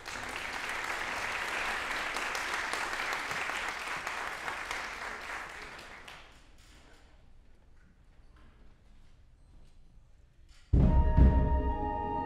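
Audience applause for the Sunnyside High School Wind Symphony at a wind festival, a full, steady clapping roar for about six seconds that fades to scattered claps and a quiet room, then a sudden low thump and rustle.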